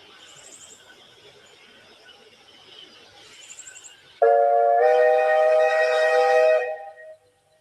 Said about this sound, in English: Absolutely beautiful whistle.